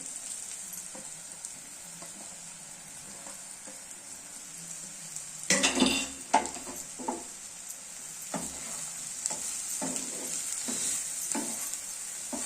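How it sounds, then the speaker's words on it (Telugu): Boiled moringa drumsticks drop into a hot pan with a sudden louder sizzle, then are stirred, giving scraping taps over continuous frying crackle, with no speech. "ఇప్పుడు ఈ ఉడికిపెట్టి ఉంచుకున్న ములక్కాడలు కూడా వేసుకోవాలండి."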